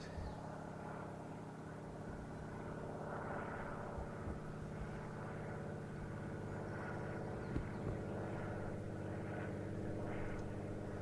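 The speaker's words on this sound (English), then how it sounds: "airplanes flying overhead" A faint, steady engine drone from a distant aircraft overhead at Bush Point, with low rumble and soft outdoor background noise throughout.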